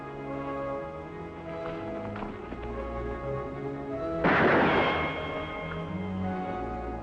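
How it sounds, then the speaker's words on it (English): A single sharp gunshot burst cuts through a continuous background of music, loud and brief, with no talking. "Gunshot."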